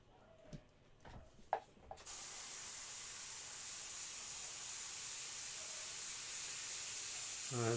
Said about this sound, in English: It's at least spraying the water